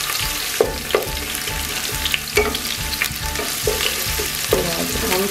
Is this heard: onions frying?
yes